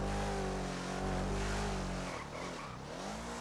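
A hatchback's engine revs steadily in a video game, a loud, continuous droning tone with a slight drop in pitch near the end and no voices over it.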